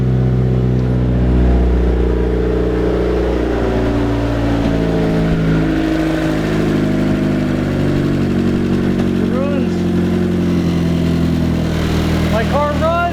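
A turbocharged Mazda Miata engine runs steadily and close, with a deep harmonic drone that rises and falls slightly as it is revved, while people's voices are heard over it.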